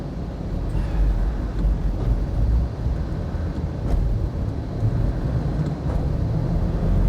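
A Land Rover Defender Td5 110 diesel with an Alive GTB450 VNT turbo run at wide open throttle on a dyno, giving a loud, dense low roar that holds steady throughout, with no voices.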